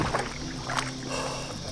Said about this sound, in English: So I might go for a bit of a paddle